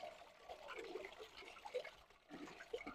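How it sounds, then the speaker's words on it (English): Soft, gurgling water trickles and sloshes continuously as a pump drains a fish farm pond, with small splashes and bubbling, fairly quiet and close. "See the way we pump out water."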